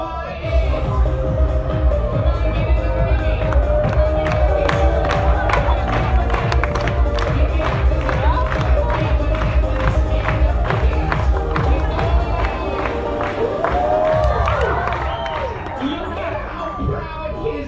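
A crowd at a park show cheering and clapping, loud and close, with scattered claps and shouts over a steady roar while a voice talks through it.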